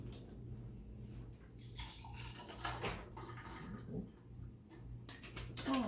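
Liquid being poured into a cup, a steady close splashing trickle that rises and falls over several seconds while snacks are being unpacked, with no talking over it.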